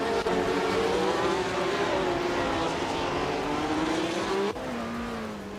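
Race cars in a video game roar close by in steady, continuous engine drone, pitch sliding gradually as they jostle in tight racing, with a brief drop near the end; no talk.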